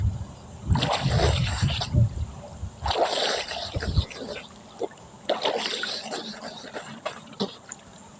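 Warm water splashing as someone washes their face outdoors, in several close bursts of splashing and trickling separated by brief pauses.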